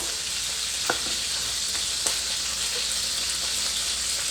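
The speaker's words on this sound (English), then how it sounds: "And now that it's hot, I'm adding my beef right away." Beef sizzles in a hot pan for stir-fried noodles, a steady close hiss of frying with a couple of faint clinks from stirring.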